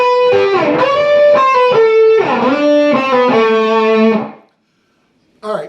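Distorted electric guitar playing the break from a song, loud sustained bends and held notes with gliding pitch, ringing out before stopping, then a brief final note.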